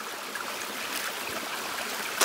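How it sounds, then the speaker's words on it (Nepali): Water being played with and splashed on a hot day, a steady broadband wash of sloshing and trickling with a sharper splash at the end, no voices. "फाइनली गर्मीमै छल्न म पानी खेलाउँदै छु।"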